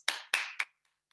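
Brief applause at the Massachusetts Invention Convention awards ceremony, a few loud bursts of clapping that quickly fade to silence with a couple of faint stray claps near the end.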